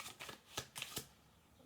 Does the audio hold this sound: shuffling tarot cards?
yes